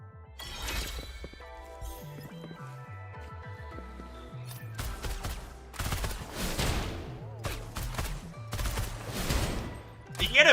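Pistol gunfire in a video game rattles out in repeated rapid bursts over music and game effects, with sharp cracks and clattering impacts building louder toward the end.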